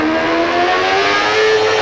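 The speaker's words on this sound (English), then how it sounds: "You're basically gonna take off in a burnout or something like that, like a rolling burnout." Motorcycle engine at high revs during a rolling burnout start in a MotoGP video game, a loud sustained whining note that holds steady and slowly shifts pitch, heard alone.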